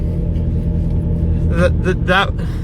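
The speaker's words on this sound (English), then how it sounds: "It's just cruising in this car" Car cruising up a hill on a track that turns soft in summer, with a constant low engine rumble and road noise throughout, and someone talking briefly over it near the end.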